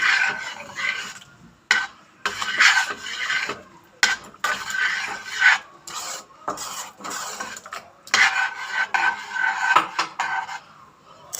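Fava beans for ful medames, left to cook for two days, stirred in a pot with repeated close scraping and knocking strokes in uneven bursts, with no one talking.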